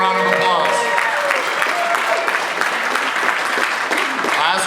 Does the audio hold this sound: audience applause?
yes